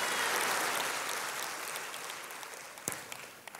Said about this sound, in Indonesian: Ayo kita kasih tepuk tangan yang paling meriah buat Tuhan kita.